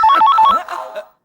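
A telephone rings in a comedy scene, giving a quick, loud trilling burst of electronic tones that warbles for about a second, then cuts off to silence.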